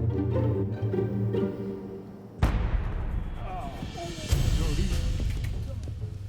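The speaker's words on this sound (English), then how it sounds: "clear any dangerous snow caps with a controlled explosion" A controlled explosion set off to clear dangerous snow caps, a sudden loud blast that rolls into a long rumbling decay, with a second thump after and a voice talking beforehand.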